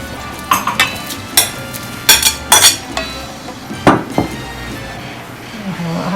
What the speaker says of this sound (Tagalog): Hahaluin mabuti.